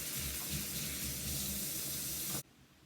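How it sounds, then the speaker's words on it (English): A kitchen tap runs in a strong, close, steady gush of water for hand washing, then shuts off abruptly near the end, leaving quiet room tone. "I'm gonna wash my hands real quick"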